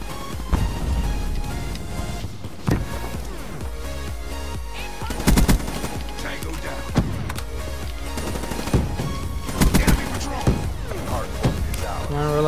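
Rapid automatic fire from the HVK-30 rifle in Black Ops 3 multiplayer, repeated bursts of sharp shots over game music and effects, with a player talking throughout.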